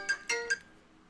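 A mobile phone gives a short alert tone, three quick bright chiming notes in a row with a small ringing decay afterward, fairly faint and without speech.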